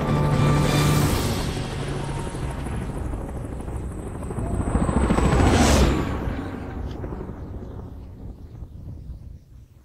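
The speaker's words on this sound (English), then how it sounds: "It's a super helicopter." A helicopter in the video game Resident Evil 6 roars with dense rotor and engine noise, swelling to a loud pass midway before fading, with game music layered over it.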